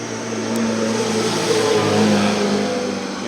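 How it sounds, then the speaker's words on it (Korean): Steady traffic on a nearby road beside a beekeeping site, a continuous broad roar of passing cars with low engine hum, loud and unbroken throughout with no talk. "차들이 지나가는 소리가 좀 많이 들립니다"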